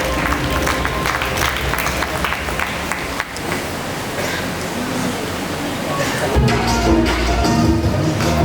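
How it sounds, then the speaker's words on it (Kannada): Audience applause fills the hall at the inauguration of the Dakshina Kannada district level Prathibha Karanji 2024, a dense, sustained clapping from a large crowd mixed with murmuring voices, growing fuller near the end. "ಎಲ್ಲರೂ ಚಪ್ಪಾಳೆಯ ಮೂಲಕ ಅಭಿನಂದಿಸಬೇಕು ಅಂತ ಪ್ರೀತಿಯ ವಿನಂತಿಯನ್ನು ಮಾಡ್ತಾ ಇದ್ದೇನೆ"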